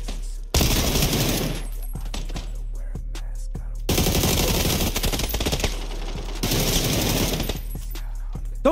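Automatic weapon fire in the battle royale game PUBG on console, with long, loud, rapid bursts hammering in three main volleys separated by short pauses and scattered single shots.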